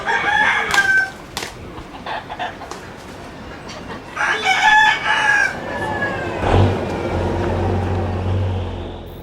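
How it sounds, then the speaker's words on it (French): Fighting roosters at a cockfight in Ecuador crow loudly several times, their calls rising over a noisy crowd murmur, with a low rumbling hum building near the end. "Les combats de coqs, comme la corrida,"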